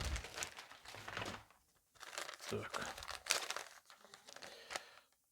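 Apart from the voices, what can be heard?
unwrapping coin packaging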